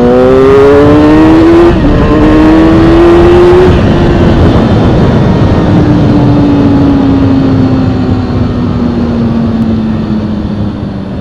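A 2004 Kawasaki 636 motorcycle engine screams loud and close at high revs past 8,500 RPM, climbing through gear shifts then holding a sustained high-pitched wail as it pulls away with wind noise.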